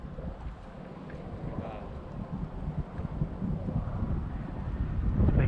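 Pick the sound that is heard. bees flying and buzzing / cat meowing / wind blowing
wind blowing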